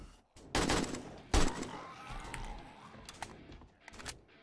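Gunfire in the zombie survival game 7 Days to Die, during a hospital exploration: two sharp, loud shots about a second apart, followed by scattered fainter clicks and small bangs.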